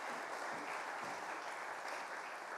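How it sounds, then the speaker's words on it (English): A church congregation applauds during a parish service, a short, steady burst of many people clapping that stays even and fairly soft, heard from within the room. "Let's give these guys a round of applause as they sit down."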